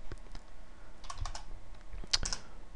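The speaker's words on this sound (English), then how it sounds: "my typing's a little atrocious here." Typing on a computer keyboard while coding a C++ Qt database program, heard as scattered clusters of close key clicks with brief pauses, fairly quiet, with no talking.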